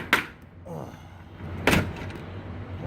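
Storm-damaged door bent back by hand after a hurricane, giving two sharp metallic bangs with a softer scrape between, close and loud against a quiet background.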